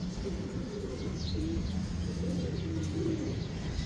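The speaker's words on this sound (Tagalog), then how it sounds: "ganadong-ganadong mga ibon natin." Racing pigeons coo softly at a loft, with low, rolling calls repeating under a steady background hiss and no talk.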